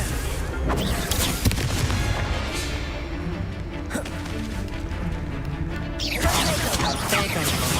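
A Confringo blasting spell from the video game Hogwarts Legacy goes off in a dense, loud barrage of booming, crackling explosions that run almost continuously, with a fresh burst of crashing noise near the end and a voice faintly beneath.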